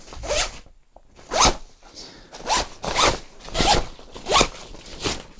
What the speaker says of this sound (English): this blue zip is actually the expansion